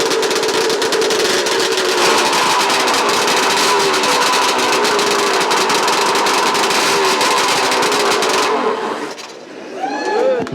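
A modified Suzuki GSX 1100 drag motorcycle, bored out to 1425, runs loud and close at a steady rumbling roar with some revving before it cuts off abruptly, leaving faint background noise at a classic motorcycle show.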